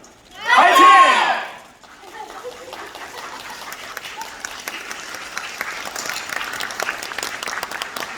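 A crowd at a musical photo session for Monte Cristo breaks into a loud burst of applause and cheering for about a second, then a thinner, steady patter of clapping continues underneath.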